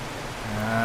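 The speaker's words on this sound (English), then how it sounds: "I apologize about the rain sound if there's any thunder" Rain falls in the video game 7 Days to Die as a brief, steady hiss of drops with a faint low hum beneath, heard without any voices.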